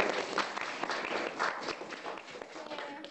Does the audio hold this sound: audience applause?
yes